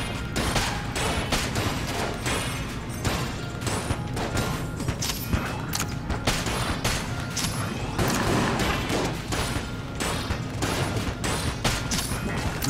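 Gunfire in Enter the Gungeon: rapid, dense, loud shots in a near-continuous barrage, mixed with crashes and impact noises and no pause across the whole stretch.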